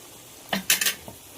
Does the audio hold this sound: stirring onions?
yes